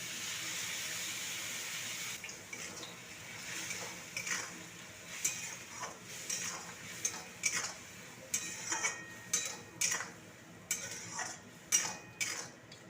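Spatula scrapes and clinks against a pan as spring onion greens and potatoes are stirred, an irregular series of close metallic taps and scrapes over a faint background hiss.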